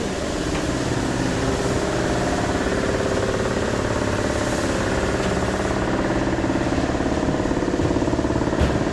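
Water-cooled Yamaha motorcycle engine idling close by, a steady unbroken mechanical rumble and rattle holding an even loudness throughout, with no voices.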